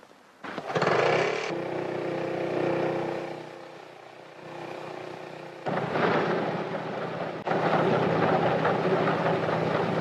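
Piston engines on a Handley Page airliner, started one after another by a small auxiliary motor, catch with a sudden roar, settle into a steady drone, then a second and third engine kick in, each louder, in old newsreel sound.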